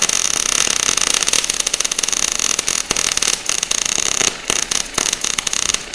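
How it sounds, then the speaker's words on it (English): Arc welding joining two metal pieces, heard as a loud, continuous crackling sizzle with a few brief breaks, close by and alone. "That's how you're gonna weld them together"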